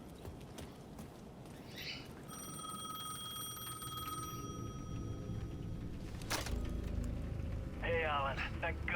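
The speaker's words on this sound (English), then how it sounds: "I heard phone ringing." A payphone rings in the video game Alan Wake 2, a steady electronic trill held for a few seconds amid ambient background noise, with a brief clatter and a later chirping burst near the end.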